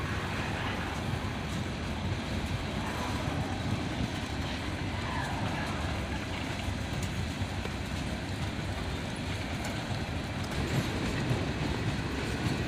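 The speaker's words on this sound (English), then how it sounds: "the end of the train goes by." A CN freight train with multiple SD40-3 locomotives rolls steadily past at close range through a curve in downtown Dayton, a continuous heavy rumble with rhythmic wheel clatter and no voices.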